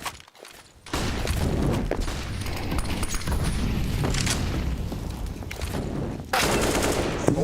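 Gunfire in a Counter-Strike professional match at the BLAST.tv Major, with an AWP sniper rifle in play; dense shots and bursts fill most of the stretch, loud and mixed with game noise after a brief quiet start.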